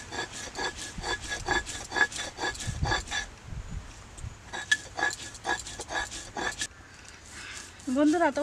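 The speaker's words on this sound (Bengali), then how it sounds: "প্রথমে আমি চালটা শিলে বেটে নিচ্ছি।" Soaked rice being ground by hand on a flat stone slab and grinder for chitoi pitha, rubbing in steady repeated rasping strokes, close and fairly loud, with someone speaking briefly near the end.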